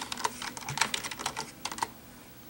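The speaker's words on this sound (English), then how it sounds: "you're going to want to type in control panel right there" Keys on a computer keyboard clatter in quick, irregular bursts of light clicks, close by and fairly soft, with no voices.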